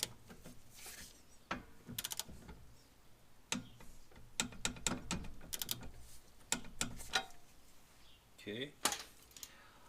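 A ratchet clicks in short uneven bursts while an Integra front sway bar end link is tightened toward torque, close and crisp, with sharp metallic ticks scattered through the clip.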